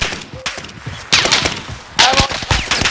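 Bursts of automatic gunfire in an online military shooter match, loud rapid volleys in several clusters with brief gaps, fired close by.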